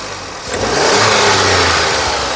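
A 2010 Volkswagen Polo Highline petrol engine revs up from a low idle into a loud, sustained roar, close by, with no voices.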